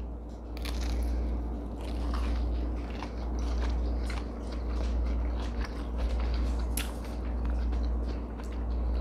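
Biting into and chewing a homemade fried apple fritter from a 1969 recipe, with repeated crisp crunches and wet squishy mastication close to the mic over a steady low hum.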